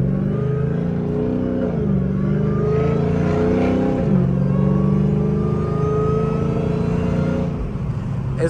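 A Dodge Hellcat with no air intake revs at full throttle, its engine roaring steadily and loudly from close by with rising pitch sweeps as it pulls through the gears, with no talk over it.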